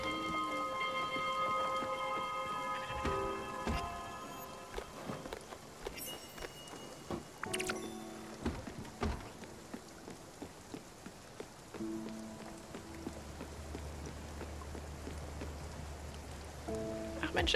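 Steady rain patters across a surface in the game Spiritfarer, a continuous hiss with scattered louder drops and thumps. A low hum joins near the end, and no one speaks.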